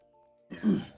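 A single throat clearing, a short rough rasp rising after a moment of near silence.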